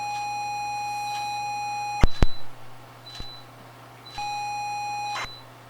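A ZX Spectrum beeper sounds from a running program: sustained electronic tones, a couple of sharp clicks, then another steady beep tone with a hum underneath, close and without speech.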